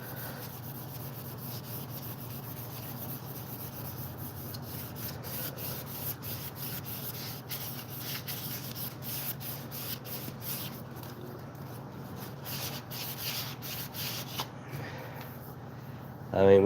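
A sanding block rubs back and forth across wood by hand, a soft, steady scraping hiss repeated in quick strokes, close and quiet, with a few sharper scuffs and a knock at the end.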